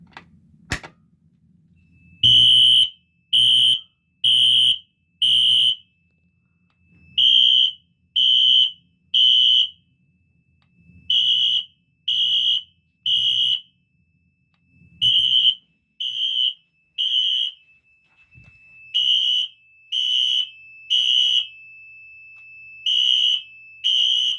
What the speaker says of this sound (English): All horns are on code 3 low volume, and even on low volume, they are still terribly, terribly loud